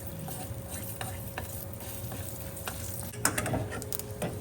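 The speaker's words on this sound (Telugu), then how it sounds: "పోపు వేగిపోయిందండి ఇప్పుడు ఇది తీసుకెళ్ళి పచ్చళ్ళలో వేసేద్దాం" Tempering spices, including chana dal and asafoetida, crackle and sizzle in hot oil, with light stirring scrapes through a steady close frying hiss.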